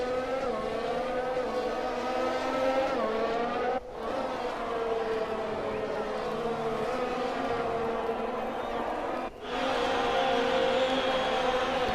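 Race cars in F1 2020 howling around a wet Hungarian Grand Prix track, a loud, continuous engine drone with shifting harmonic pitch and two brief gear-shift dips, no talking.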